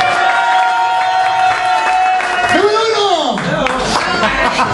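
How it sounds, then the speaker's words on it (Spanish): A live crowd at a comedy show cheers and claps in a steady wash of noise, with a loud voice rising and falling over it and people talking throughout. "Aplauso número dos."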